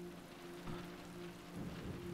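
Rain falls in the video game Road 96 as a soft, steady patter with faint low rumbles, fairly quiet and continuous, with no voices.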